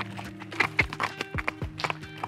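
Horse's hooves clip-clop at a trot during an equine lameness evaluation, a quick regular beat of sharp, fairly close hoof strikes on hard ground, with a faint whinny-like sound mixed in.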